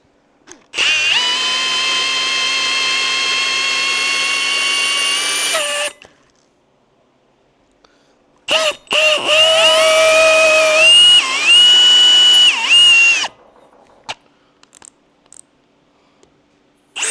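Power tools working a Shovelhead cylinder head, reaming a valve guide and cutting a valve seat: one steady whining run of about five seconds, then after a pause a second stretch of shifting, wavering tool whine, loud and close.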